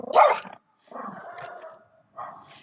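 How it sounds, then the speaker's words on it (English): A dog barks at another dog during a walk: a loud close bark, then a longer lower growl-like vocalization, then a final shorter bark, all without talk. "Right, so there's another dog here."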